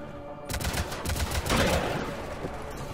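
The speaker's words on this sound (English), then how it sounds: "What the fuck is shooting at me?" Gunfire erupts in the Mass Effect 3 video game: a sudden rapid burst of shots, close and loud, with a denser barrage in the middle before it eases off.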